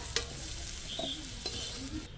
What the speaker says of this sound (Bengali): এঁচড়গুলো লাল লাল করে ভাজা হয়ে গেছে সমস্ত কিছু এঁচড় আলু ভাজা হয়ে গেল